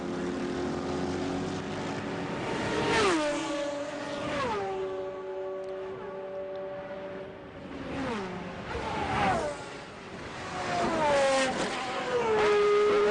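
Race cars at the 1999 Le Mans 24 Hours pick up speed again after the safety car pulls off, several engines sweeping past one after another with rising then falling pitch, loud and near with no talk.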